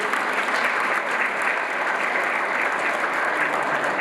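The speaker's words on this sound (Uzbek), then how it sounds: "Shular uchun ham bir qarsak chalaylik" An audience at a special literary journal event honouring poet Xurshid Davron breaks into dense, steady applause that fills all four seconds at an even, close volume, with no voices rising above it.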